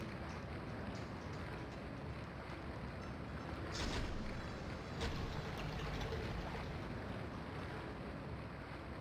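Water surges back up in a Spider-Man video game, a dense broadband rushing and washing wash with wind-like noise, steady and moderately faint, with a couple of brief louder splashes midway.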